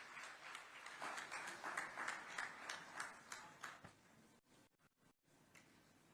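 Audience at a Chhattisgarh public event claps in a steady rhythmic beat to welcome Chief Minister Vishnu Deo Sai, then the applause fades into scattered faint clicks and near silence.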